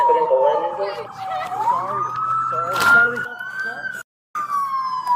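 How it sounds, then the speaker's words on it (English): A police siren wails in steady rising and falling sweeps, loud and close, with game sound effects and a brief dropout near the end. "Go shut those sirens off."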